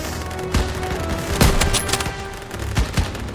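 Rapid bursts of gunfire in the Call of Duty WW2 game crack out over a dense battle din, with several sharp, loud shots standing out at irregular moments.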